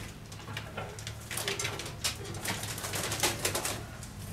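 Racing pigeons of a pure Koopman-line loft cooing, low steady throaty coos with some rustling and fluttering, fairly faint in the background.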